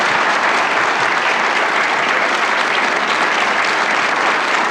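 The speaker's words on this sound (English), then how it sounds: "please give our amazing guests a huge round of applause" An audience applauds its guests after a book club discussion at Christ Cathedral in Orange, California, a loud, thick, continuous roar of clapping that stays level throughout.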